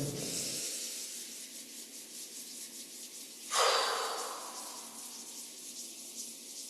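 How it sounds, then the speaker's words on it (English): Palms rub together during a Qigong practice, a soft, sustained brushing hiss with one brief louder swell midway, along with quiet steady breathing and no talk. "Rubbing the palms together and breathing."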